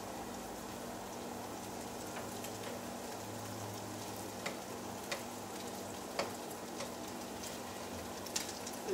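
Pork frying in a pan for a Tex-Mex Puerto Rican dish, a steady soft sizzle running throughout with occasional small pops and crackles, fairly quiet and with no talking.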